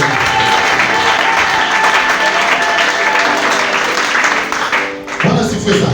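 A church congregation claps and ululates together, a dense, loud, continuous wash of hands with high trilling voices running through it, briefly dipping near the end before surging again.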